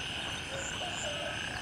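Frogs croak in Gray Zone Warfare game footage, a steady, faint chorus of overlapping calls spread over dense background ambience, with no voices.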